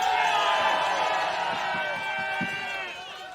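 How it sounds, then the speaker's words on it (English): A large crowd at a cross-country race cheers and whoops for a runner, a steady roar of voices and whistles with an announcer talking over it. "Apparently the entire Midwest has come to cheer Josh on."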